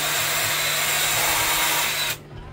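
A power drill enlarges and cleans screw holes on a boat, whirring steadily and loudly up close for about two seconds before cutting off to quiet.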